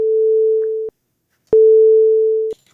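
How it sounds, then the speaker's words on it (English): Generated 440 Hz sine wave tone made in Audacity, a pure steady beep played twice, each lasting about a second with a slight fade and a gap of silence between, loud and alone. "And we start here with a frequency of 440 and a sine wave."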